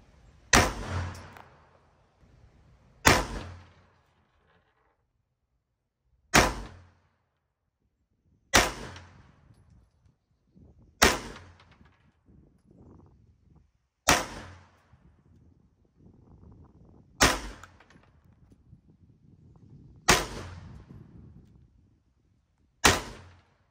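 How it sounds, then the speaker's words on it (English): A handgun fitted with a red dot sight fires about ten single rounds at a shooting range, each sharp, loud report spaced a couple of seconds apart with brief echoes and quiet between shots. "We're just going to run through it, see how she runs, make sure she goes bang 10 times"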